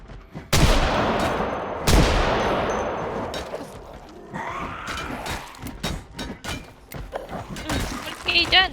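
Gunfire in the Project Zomboid video game: two loud close gunshots with ringing decay, then a scattered series of sharper cracks and thuds, some overlapping.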